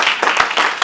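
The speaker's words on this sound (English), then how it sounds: "give yourself a hand clap." An audience at an evening class on living debt free claps, producing a short burst of sharp, close hand claps with a few distinct strikes standing out from the broader applause.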